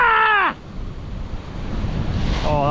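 Strong wind roars across a beach in steady, gusting rushes, with a voice briefly calling out in whoops at the start and again near the end.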